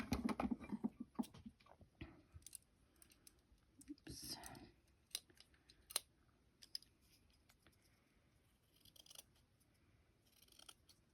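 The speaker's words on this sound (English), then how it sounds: "I'm going to just cut myself a pretty good circle." Scissors cutting a circle out of coarse, big-weave cotton fabric, faint close snips and crunching cuts in irregular bursts, with quiet handling noises between.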